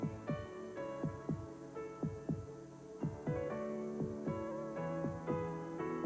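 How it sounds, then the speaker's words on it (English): Deep, rhythmic heartbeat thumps in a 1986 Chevrolet commercial, a steady double-pulse throb repeating over a sustained musical tone, with no voices. "Listen to the heartbeat of America."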